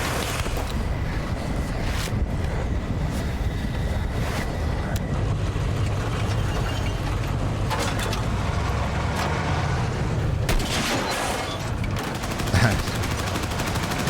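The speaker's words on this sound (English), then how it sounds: "look at the tracers and where your teammate's shooting at" A teammate fires rapid bursts of gunfire in the Redsec video game; the sharp cracks repeat irregularly amid constant loud vehicle and wind rumble, with short quiet gaps between bursts.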